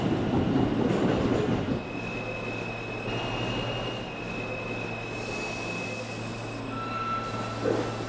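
R160 subway train running on the M line, a continuous rumble of wheels on rail from inside the car with a steady tonal hum. Faint squeals rise near the end, and no propulsion whine is heard.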